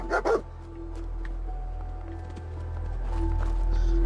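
Dog barking in the video game Fallout 4, two quick close barks at the start over a steady low game ambience hum.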